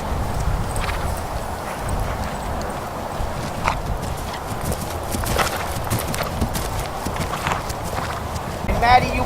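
Horse hooves clop steadily on the ground during a riding training session, a continuous rhythmic walking beat under an instructor's voice that talks over most of it.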